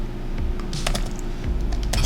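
Rapid keystrokes patter on a computer keyboard during a Flutter coding session, close and clear, in quick irregular bursts without talking.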